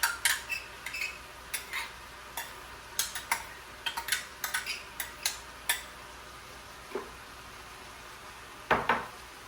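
A utensil stirs stout BBQ sauce into rice and beans in a pot, making irregular light clinks and scrapes against the metal, fairly close and quiet.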